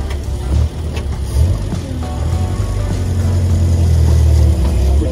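A car drives along after river tubing, picking up passengers, its engine droning low and steady and rising slightly as it accelerates, with a few bumps and knocks over the rumble.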